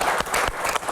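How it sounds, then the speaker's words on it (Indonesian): Studio audience applause on an Indonesian political talk show, a short burst of many hands clapping together, loud and close, with a few sharper peaks and no speech over it. "kita berikan tepuk tangan untuk Kang Pipin."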